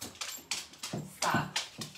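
Excited dogs at an indoor training meeting give repeated short whimpers and yips in irregular bursts, fairly close, with no talk over them.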